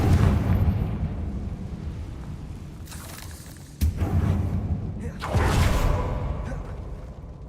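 Confringo fire spell exploding in the game Hogwarts Legacy, a rumbling blast with whooshing bursts and booms layered over continuous battle noise, loud and close.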